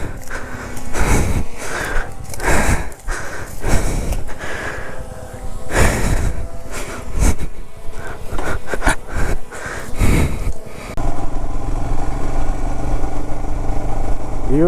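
Motorcycles of a biking community roll in for a group ride at a sunset point near Bangalore, with repeated engine swells and revs passing close, then a steadier idle at the end.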